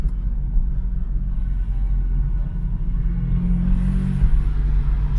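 A small Honda Integra driving through a narrow Japanese mountain village, heard from inside the car as a loud, steady low engine rumble and road drone with a slight rise in revs near the end.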